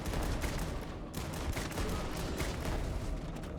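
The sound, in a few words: shotgun firing in the video game Starfield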